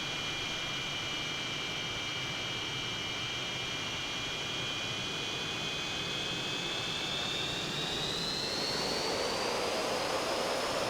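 A simulated F-86 Sabre jet spools up and takes off down a runway in the FSX flight simulator, its steady loud roar and rising whine building throughout, heard alone.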